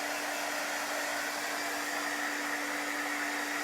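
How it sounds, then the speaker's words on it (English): An embossing heat gun blows hot air to dry chalk paste, a loud, constant whirring hiss held at an even level from start to finish. "so I use my embossing gun"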